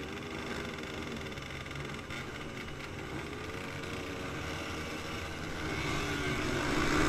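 A motocross motorcycle idles at the starting gate, its engine holding a steady rumbling drone for several seconds before swelling louder near the end as the gate is about to drop.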